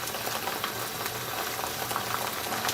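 A spicy sauce bubbles and cooks down in a pan, a soft, steady close boiling burble with faint pops and no talking.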